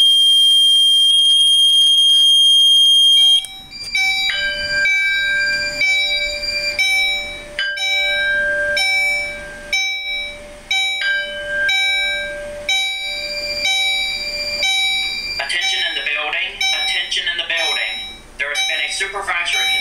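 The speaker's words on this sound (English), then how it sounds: "I'm going to insert my key, and I'm going to turn it to test. And this piezo will also sound." A high piezo tone sounds alone during a Potter PFC 4064 fire alarm panel test, then a repeating pattern of electronic alarm beeps and chimes pulses over a steady hum, with a voice partly speaking underneath.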